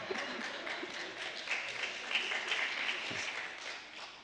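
An audience at a games industry talk applauds with continuous, dense clapping that stays fairly even for a few seconds and fades slightly at the end, with no voices over it.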